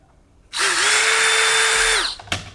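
A drill fitted with a 7/32 bit bores out a rivet hole in Kydex holster material, one loud, steady, close whine lasting about a second and a half, then winding down, followed by a brief clunk.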